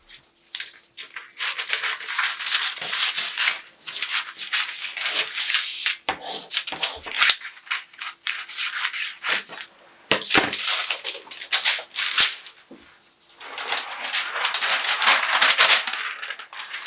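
Scissors cutting a paper stand-collar flat pattern, with continuous crisp snipping and rustling of paper, in irregular bursts that run through the whole stretch with brief pauses between cuts.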